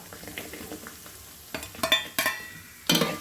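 Coconut pieces drop into a pan of frying shallots, garlic and ginger for beef curry, a soft sizzle followed by several sharp clanks of a spoon against the pan.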